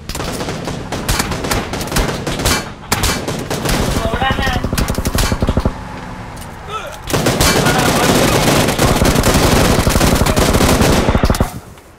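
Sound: gunfire in the video game PUBG Lite

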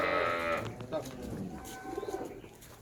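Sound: dairy cow mooing on a farm

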